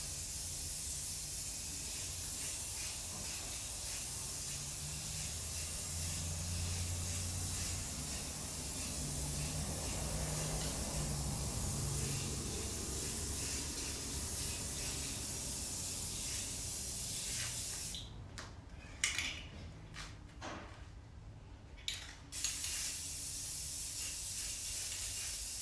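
A long, steady hiss of a spray paint can in a garage workshop runs for many seconds, then breaks into short bursts and pauses near the end.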